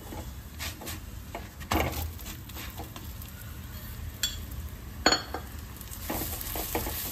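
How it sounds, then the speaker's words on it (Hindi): Matar paratha cooking in oil on a griddle, a soft steady sizzle with occasional scraping and light utensil clinks against the pan, close and moderately quiet, with no talking. "हमारे घर में जो है देसी घी का परांठा सिका हुआ नहीं खाते, तो मैं इसीलिए ऑयल से ही सेक रही हूँ।"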